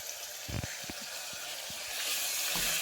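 Marinated mutton hitting a hot pan for a curry, a soft crackling sizzle with a few sharp pops and clatters, rising into a steadier hiss toward the end, no talking.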